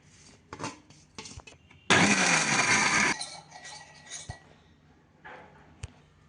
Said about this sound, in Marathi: आता हे खोबरं बारीक करूया, पण हे खूप फिरवायचं नाही बरं का मिक्सर, अगदी पल्स मोडवरतीच